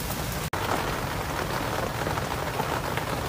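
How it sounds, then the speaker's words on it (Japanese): Steady heavy rain falls outdoors as a typhoon approaches, making a dense, constant hiss of drops hitting surfaces nearby, with no talk. "雨降ってるな。"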